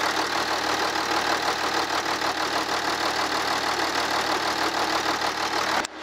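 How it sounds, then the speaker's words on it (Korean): A Hyundai Veracruz V6 diesel engine idling with the hood open, a steady, even mid-toned hum with a faint regular knock, heard close and alone before it cuts off abruptly at the end. "엔진 소리 한번 들어볼게요."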